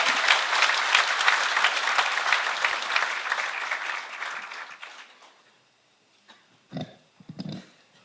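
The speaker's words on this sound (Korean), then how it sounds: "힘찬 박수 부탁드립니다" Audience applause in a large hall at a 2012 Korean labor federation (FKTU) delegates' convention, dense and sustained for about five seconds before fading out, followed by a couple of brief murmurs or scattered sounds.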